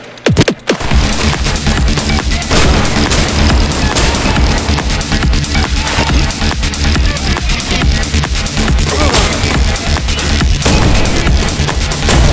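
Explosions and rapid gunfire from a story-mode action video game, a dense, loud, continuous barrage of booms and shots filling the whole stretch after a brief quieter opening.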